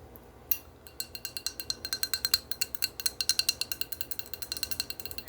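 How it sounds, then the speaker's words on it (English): Glass is tapped in a rapid, steady series of bright, ringing clinks, roughly six to eight per second. The taps stay close and fairly quiet with no voice over them. "I'm tapping, doing some glass tapping"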